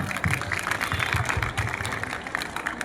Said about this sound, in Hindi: जोरदार तालियों के साथ सबका स्वागत